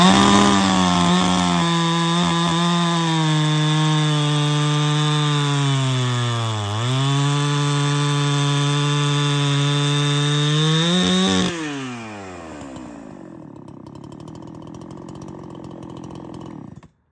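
A Holzfforma 372xp 71cc chainsaw (Husqvarna 372xp clone) with a modified muffler and advanced timing runs loud and close, its high buzzing pitch dipping briefly mid-run, then winding down to a quieter idle after revving.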